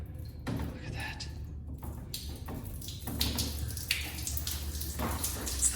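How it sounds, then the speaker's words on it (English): A motion-sensor waterfall urinal releases a steady rush of running water in a restroom, the close, continuous flow swelling slightly partway through, with people talking over it. "The iconic waterfall urinal."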